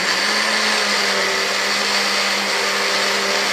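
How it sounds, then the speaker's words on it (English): A blender whirs loudly and steadily up close while blending a watermelon drink, a continuous motor roar with no pauses and no talking. "we'll go ahead and blend it for about maybe 10 seconds"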